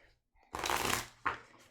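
Tarot cards are shuffled in two quick riffling bursts, a longer crisp flutter followed by a shorter one, close and clear in a quiet room.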